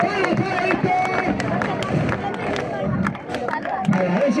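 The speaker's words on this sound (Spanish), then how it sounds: "¡Palmas! ¡Palmas para esto!" Spectators at a village bullfight clapping, scattered claps mixed with crowd noise and shouting, loud voices calling out over them.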